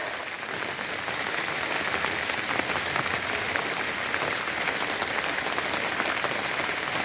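Steady rain falling, a dense continuous hiss of drops on a surface, even and unbroken throughout, with no talking.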